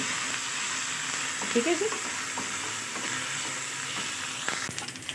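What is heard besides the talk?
ginger garlic paste frying with onions in a pan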